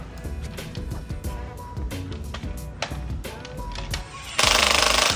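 Rapid, loud mechanical hammering of an impact wrench working on a Jeep rattles in short bursts, close up, ending in a harsher, hissing blast of the tool.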